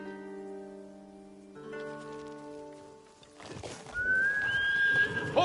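In the video game Ghost of Tsushima, sustained musical tones give way to a noisy outdoor bed, then a horse lets out a high whinny near the end.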